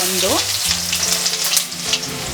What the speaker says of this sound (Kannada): ಈರುಳ್ಳಿ ಸ್ವಲ್ಪ ಕಲರ್ ಚೇಂಜ್ ಆಗೋವರೆಗೂ ಫ್ರೈ ಮಾಡ್ಕೋಬೇಕು